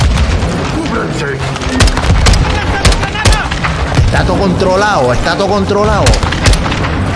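Heavy gunfire and booming blasts from Call of Duty Modern Warfare 2, with repeated loud shots and explosions layered over excited shouting and someone speaking throughout.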